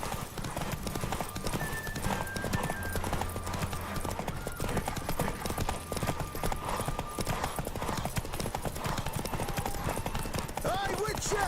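Horse hooves gallop in a steady clip-clop through The Witcher 3, a rider spurring a mare in a race, mixed with game music and a brief whinny near the end.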